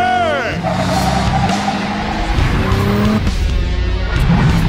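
A tuned high-powered car in Cyberpunk 2077 roars at full throttle as its tires squeal and skid in bursts, loud and close, with in-game voices and effects mixed underneath.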